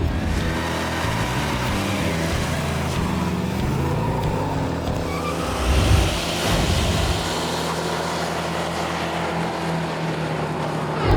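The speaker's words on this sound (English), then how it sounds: "we're taking a look at a 1968 El Camino, and it's powered by the 375 horsepower 396 V8" A 1968 Chevrolet El Camino SS with a 375-horsepower 396 V8, a loud steady engine rumble with a rev swell partway through, close and continuous with no talking.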